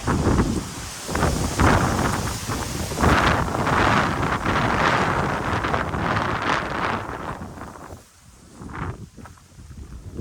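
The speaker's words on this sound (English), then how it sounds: "there's the wind again" Outdoor wind buffeting a microphone, heavy rumbling gusts that rise and fall over several seconds, easing briefly near the end before picking up again, with no talk.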